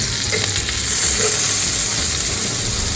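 A beef burger patty fries in a pan with a steady, close sizzle that holds level and continuous throughout, with no voices over it.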